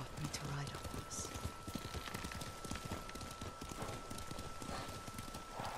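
Steady clip-clop of a horse's hooves at a walking pace while riding in the Ghost of Tsushima video game, close and continuous under in-game ambience, with a brief whinny.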